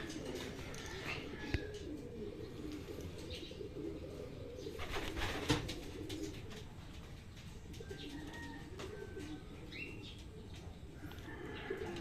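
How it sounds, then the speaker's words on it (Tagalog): Racing pigeons coo and flap at a loft during club training in Cabanatuan, Nueva Ecija, with a soft flurry of wings amid steady outdoor background noise and occasional low talk. "Ayan, first bird natin. Isa pa lang."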